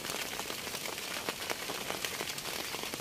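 Steady rain falls on a farm during the rainy season, a dense, continuous hiss of drops with scattered crackling patters on nearby surfaces, constant in level and with no voices.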